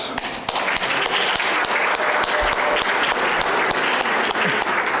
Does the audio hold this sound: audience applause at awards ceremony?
yes